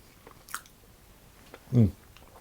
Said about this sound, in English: And I'll just have a bite into this one.